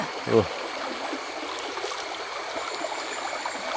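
A small stream in Kerala runs full during the monsoon, giving a steady close rush and trickle of flowing water, with a brief voice near the start over it.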